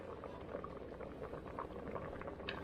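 Italian tomato-zucchini mixture bubbling in a pot on the stove, a steady close simmer with soft popping bubbles running throughout, no voices.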